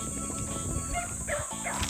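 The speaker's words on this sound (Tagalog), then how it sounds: "iwasan ko lang aso" A dog barks on a mango farm with a fishpond in rural Pangasinan, the barks fairly distant and mixed into steady outdoor background noise.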